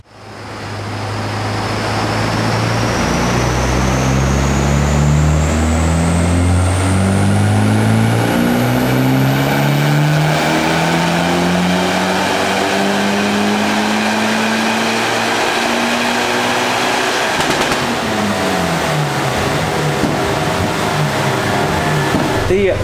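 A diesel car engine on an inertial dynamometer revs in long, rising pulls. It is loud and close, and the pitch climbs steadily before easing off near the end.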